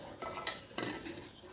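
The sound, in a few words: scooping chutney with a spoon in a bowl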